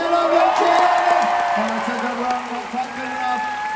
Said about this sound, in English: And now cheer London, cheer London, cheer.